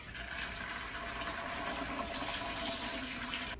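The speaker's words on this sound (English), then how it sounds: "I'm going to pour it right on into the bottom of my canner." Cream of tartar solution poured into the bottom of a pressure canner, a steady, continuous splashing stream of liquid that stays close and fairly loud throughout, with no voices.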